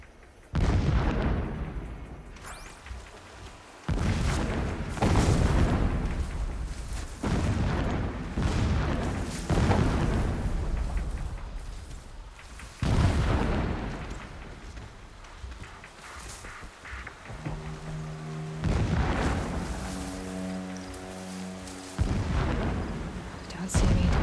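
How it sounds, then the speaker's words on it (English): Distant explosions in Horizon Zero Dawn, a run of heavy booms and rumbling blasts recurring every few seconds across the stretch, with a game voice over them and tonal music late on. "explosions in the distance."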